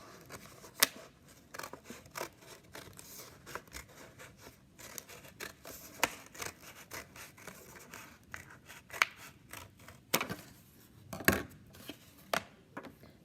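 Scissors snip paper along a drawn line for a St. Patrick's Day leprechaun-face craft, giving a quiet, irregular series of crisp cuts and rustles, close up with no talking.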